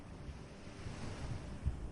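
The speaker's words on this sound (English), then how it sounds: "The sound of waves lulls you to sleep." Ocean waves washing onto a quiet Cambodian island shore, a soft steady rushing wash with a gentle swell, faint and continuous with no voices.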